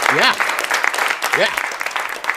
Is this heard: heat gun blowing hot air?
no